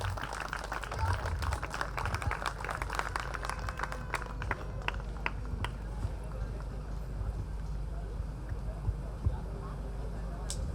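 An audience applauds to welcome a guest to the stage at a felicitation ceremony for a folklore scholar: sustained, dense crowd clapping throughout, thinning slightly toward the end, with faint voices underneath.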